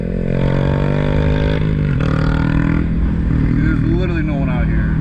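A motorcycle engine revving close by, a loud steady drone whose pitch climbs and sweeps near the end, with a voice talking over it.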